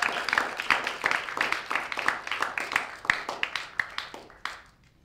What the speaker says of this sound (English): Can we get a warm round of applause for this beautiful entrance